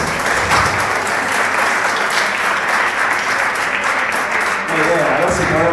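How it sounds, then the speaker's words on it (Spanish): Dense, sustained audience applause fills a crowded hall at the Master Prog Fest progressive rock festival in La Plata, loud and steady throughout with a slight dip near the end. "Pueden aplaudir."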